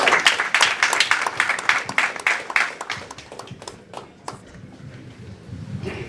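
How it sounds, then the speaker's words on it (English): Audience at a Las Vegas conference panel claps loudly in a dense burst of applause that thins into a few scattered claps and fades out. "Clap it up for Brother Sam, everybody."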